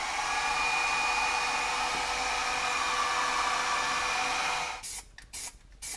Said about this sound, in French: On va accélérer un petit peu le séchage avec un sèche-cheveux.